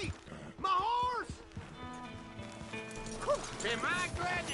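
In Red Dead Redemption 2, a horse's hooves clip-clop and it gives whinnying neighs, heard under voices talking.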